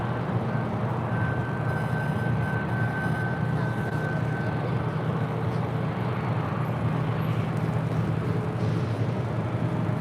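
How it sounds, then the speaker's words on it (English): A Delta Airlines A350 jet roars during takeoff from runway 25 right at LAX, a loud continuous rumble with a sustained whine, heard at some distance outdoors. "Next takeoff is Delta Airlines Flight 678 heading to Atlanta"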